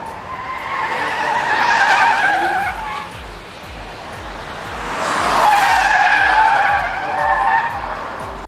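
A $400,000 Rolls-Royce Cullinan pushed to the limit on a track: two long bursts of loud skidding tire squeal, with the engine audible beneath and rising and falling as the car slides.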